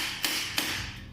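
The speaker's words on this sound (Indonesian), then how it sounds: "Anda juga bisa mengambil palu bola saya di sini. Saya mengetuk starter beberapa kali." A ball-peen hammer taps a car starter twice in quick succession, short sharp metallic knocks up close, with no voices over them.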